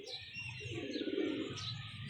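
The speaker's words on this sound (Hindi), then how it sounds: "ये मैंने अभी बांधा हुआ है कबूतर" A pigeon coos nearby, a soft low throaty burble rising and falling, with faint higher chirps and background noise around it.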